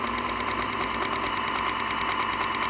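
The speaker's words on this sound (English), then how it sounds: "we're sewing along and we're getting a small pin tuck" A vintage Singer Featherweight sewing machine runs steadily while stitching a small pin tuck, its needle chattering in a fast, even rhythm up close with no pauses.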